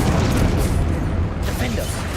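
Expelliarmus spell cast during combat in Hogwarts Legacy: a loud, dense booming burst of magical energy that fills the short moment, with game sounds rumbling underneath.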